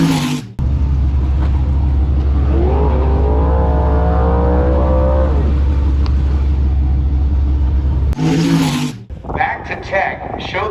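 A drag race car at Holley LS Fest, an LS-engined build, roars off the line down the strip, a loud sustained engine rumble climbing as it accelerates away, then cutting off abruptly before crowd noise and voices return.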